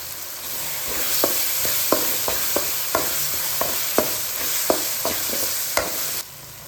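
Chopped garlic sizzles steadily in a hot pan, with a series of sharp spatula scrapes and taps ticking through the frying at a loose, regular pace.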